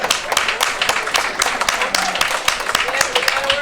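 Crowd at an ACE Overdrive wrestling show claps in quick, uneven bursts, close and fairly loud, with a commentator talking over it throughout.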